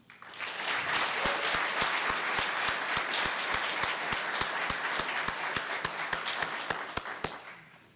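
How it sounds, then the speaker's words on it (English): A large audience claps in steady applause at a high school athletic Hall of Fame induction ceremony, a dense, sustained wash of many hands with a few sharp, close claps standing out and no talking over it. "Please join me in a round of applause for inductees Mr. Tom Garrity, Mr. Alex Netting, and Dr. C"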